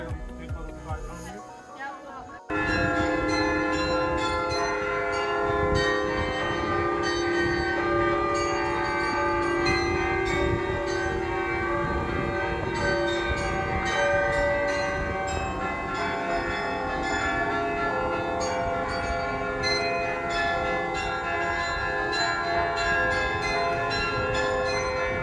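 Church bells in Den Bosch, the Netherlands, peal loudly and continuously at midday, overlapping strikes ringing out in a dense clangorous wash that starts suddenly after a brief quieter moment and carries on throughout.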